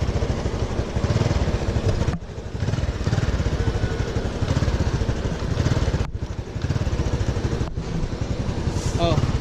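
A motorcycle engine runs and revs in short pulsing bursts during a riding lesson, close and loud with a throbbing idle between throttle blips and a few brief drops, while an instructor talks over it.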